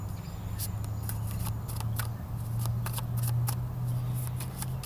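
Tarot cards are shuffled in a series of quick, crisp riffling snaps, irregular and close, over a low background hum.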